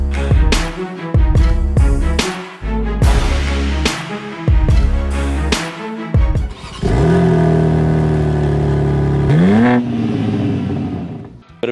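BMW M3 and M4 engines rev hard with a series of sharp, loud throttle blips and crackles, followed by longer sustained revs that rise and fall, heard up close with no talking.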